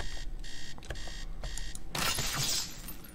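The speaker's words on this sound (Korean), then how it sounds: "알람 끄고" An alarm clock rings in the Teardown destruction game in rapid repeated electronic bursts for about two seconds, then a loud smashing crash cuts it off and debris rattles briefly.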